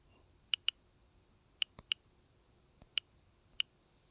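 Single keys tapped on a computer keyboard in a quiet room, a handful of sharp, isolated clicks spaced irregularly, faint and close.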